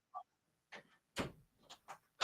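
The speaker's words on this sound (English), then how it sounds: "someone knocked on the door." Several sharp, isolated knocks on a door indoors, a few separate raps spread unevenly over a couple of seconds, close and moderately loud with no voices.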